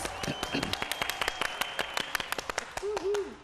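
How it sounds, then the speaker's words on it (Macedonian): Studio applause played from a talk show control room, a crowd of rapid sharp claps in an even patter through the whole stretch, close and fairly loud, with a short voiced sound near the end. "Да молам режи аплауз."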